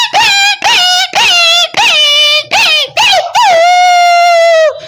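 A human voice imitates a puppy whimpering in the cold, with six close, loud, high-pitched whining yelps in quick succession and a longer drawn-out whine to finish.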